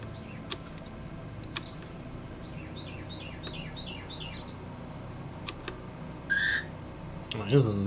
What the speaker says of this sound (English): I think that's a Carolina wren call.